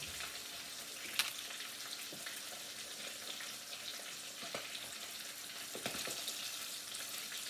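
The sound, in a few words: small fish frying crispy in oil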